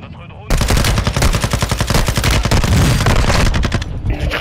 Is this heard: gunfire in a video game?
yes